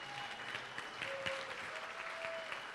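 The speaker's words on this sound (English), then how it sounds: "Ladies and gentlemen, how about a nice round of applause for those very kind words?" Wedding guests at Lake Mohawk Country Club in Sparta, NJ, applauding after a toast: a dense, fairly quiet patter of clapping from a room full of people, steady throughout, with faint tonal sounds mixed in.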